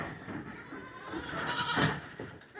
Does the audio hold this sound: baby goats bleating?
yes